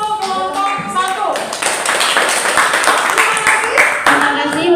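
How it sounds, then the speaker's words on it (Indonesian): Applause from a classroom of teacher trainees for the first group after its presentation. It builds into a dense, steady clapping that follows a short spoken line at the start and carries on to the end. "tepuk tangan untuk kelompok 1"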